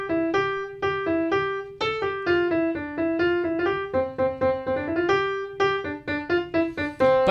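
Piano notes pick out This Old Man as a bright, bouncy tune of repeated single notes at a steady pace, near and unaccompanied.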